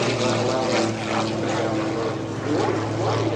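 Propeller aerobatic plane performing at the EAA AirVenture 2025 airshow, a steady droning engine and prop roar with strong low harmonics, fairly loud and continuous throughout.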